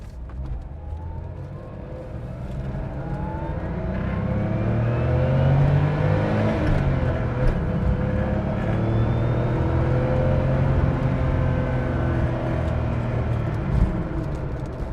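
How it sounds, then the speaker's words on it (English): A 1979 Porsche 911 (930) Turbo engine revs up hard and climbs through the gears, its rising whine loud and close throughout. "The engine sound is about as unique as it gets, and it just sounds incredible. I am going to get the RPMs up here."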